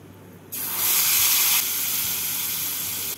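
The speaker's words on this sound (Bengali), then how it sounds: "ফোড়নটা হয়ে গেছে, এবার মশলাটা দিয়ে দিচ্ছি।" Spice paste is dropped into hot tempering oil for a doi potol (potato-and-yogurt-style pointed gourd) curry and erupts into a sudden loud, steady sizzle that holds close up for a few seconds.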